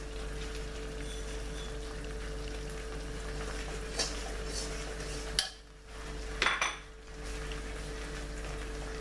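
Moong dal halwa is stirred in a pan, with a steady low kitchen hum throughout and a few clinks and scrapes of a utensil against the pan near the middle and later on.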